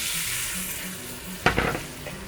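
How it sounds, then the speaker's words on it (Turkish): Hot water poured onto rice sautéing in butter with salt in a pan, a steady sizzle suddenly bursting into a loud hiss and crackle as the water hits, close and alone. "Tereyağı ekledim ve şimdi de pirincimi ekledim. Bu şekilde kavuruyorum. Tuz atıyorum. Ve sıcak su ilave ediyorum."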